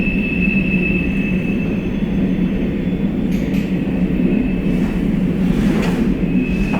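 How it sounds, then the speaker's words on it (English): A train rumbles steadily past nearby outdoors, a continuous loud low roar with a faint high whine running through it and no break across the stretch. "Let's let the train pass."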